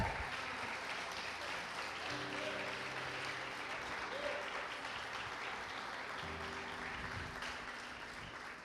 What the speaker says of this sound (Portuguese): Pode aplaudir ele, por favor.